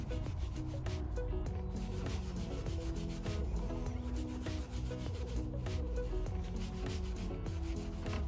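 Paintbrush bristles are rubbed with a rag while cleaning painting tools, making a close, continuous scratchy swishing with a quick repeating rhythm and no voices.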